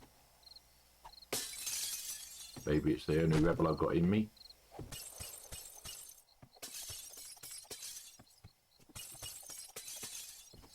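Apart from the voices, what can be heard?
glass shattering in the video game 7 Days To Die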